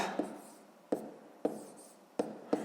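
A pen writing on paper: soft scratchy strokes with several sharper taps at irregular intervals, close and quiet, with no speech.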